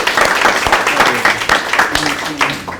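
An academic audience claps at a research council session, steady close applause that runs throughout, with speech going on over it.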